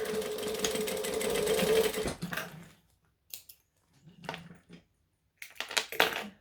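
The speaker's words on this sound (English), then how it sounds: "I can just stitch over all of it, doesn't matter" Sewing machine stitching over fabric for a bound edge, a loud steady whirring run for about two seconds, then stops, followed by a few faint clicks and fabric handling sounds.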